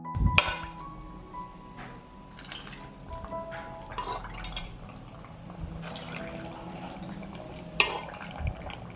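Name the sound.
marinade poured over peppers in jars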